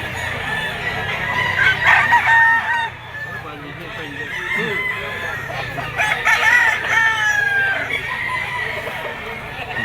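Gamecock roosters crow and hens cluck at a pet market, with several crows rising over a background of chicken noise at moderate distance.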